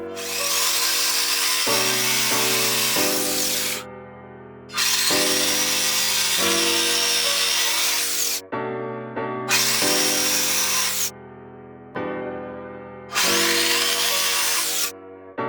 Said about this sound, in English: I get as close to the line as I can with my jigsaw